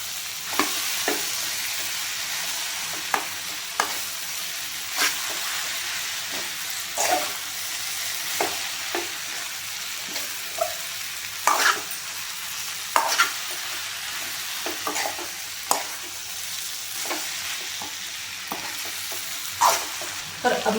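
Fried vegetables being tipped into a kadhai and stirred, a steady hiss of frying broken by repeated sharp scrapes and clatters of the spoon against the pan at irregular intervals, close up and without speech.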